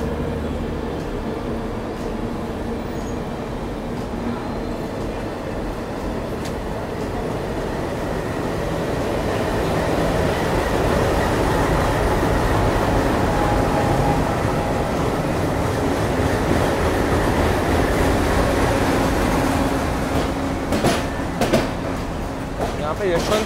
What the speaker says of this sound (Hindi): यशवंतपुर हावड़ा दुरंतो एक्सप्रेस अपनी निकल चुके है यशवंतपुर प्लेटफॉर्म नंबर 6 से